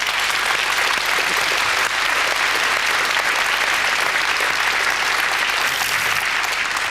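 An audience claps loudly and continuously for several seconds, a dense even wash of applause without cheering or pauses.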